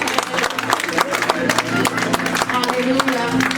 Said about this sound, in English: Somebody clap your hands for the Lord